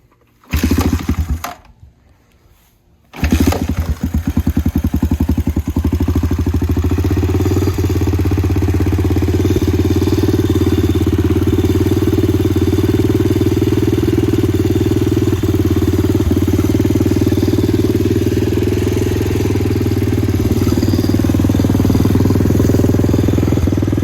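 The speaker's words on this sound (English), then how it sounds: "Still has fuel in it, still runs. I'll give it a kick." A go-kart engine with shot wiring is kick-started after a few quiet seconds and sputters into life, then settles into a loud, steady mid-pitched idle that runs on to the end, close by, with no talking.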